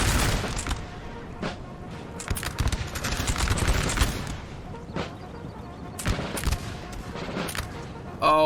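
Artillery cannons firing in a Napoleon: Total War 4v4 battle, with repeated booms and crackling volleys in irregular bursts, loud and steady over a continuous battlefield din.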